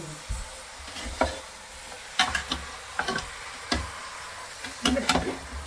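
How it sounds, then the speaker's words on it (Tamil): A spoon stirs quail curry in a pan, with intermittent scraping and clinking strokes over a soft simmering sizzle, fairly close, no voices. "ஒரு கிண்டு கிண்டிட்டு"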